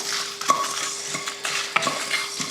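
Whole cinnamon, cloves, red chilies and curry leaves dry roasting in a pan for a Tamil mutton dry roast, with a soft steady rustle broken by scattered light scrapes and clicks of stirring.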